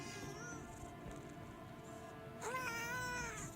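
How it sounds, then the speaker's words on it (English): A virtual cat meows in the video game Star Citizen, a pair of bright, rising-and-falling meows near the end over a steady bed of game music and ambient hum. "I have a virtual meow meow saying hi to me."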